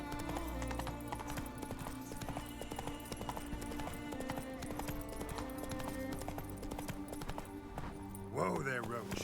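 Rhythmic clip-clop of Roach the horse galloping in The Witcher 3, steady hoofbeats under game music with a whinny near the end; speech also occurs.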